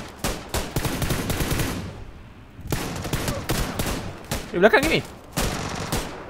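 Bursts of automatic gunfire in the battle royale game PUBG rattle in several rapid volleys, near and loud, while players talk over them.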